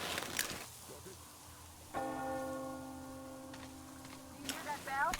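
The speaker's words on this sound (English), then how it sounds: "You hear that bell?" Bell tolling in the video game Metro Exodus, a ringing strike with long sustained tones that decay slowly, heard after an earlier faint strike amid quiet ambience and soft effects.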